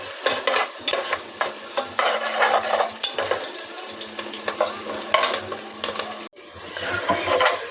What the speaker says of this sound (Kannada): ಇವಾಗ ಈರುಳ್ಳಿ ಮತ್ತು ಬೆಳ್ಳುಳ್ಳಿ ಫ್ರೈ ಆಗಿದೆ